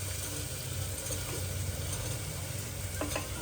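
Corn kernels stirred into a simmering gravy in a pan, a continuous close sizzle with scraping stirs and a couple of sharp clinks near the end, no speech.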